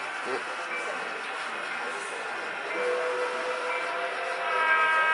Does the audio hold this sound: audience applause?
no